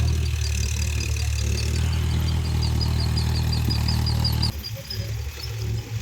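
A tractor engine runs close by while ploughing a waterlogged paddy field, a loud steady low rumble with a faint high chirping over it, cutting to a quieter, rougher engine tone near the end.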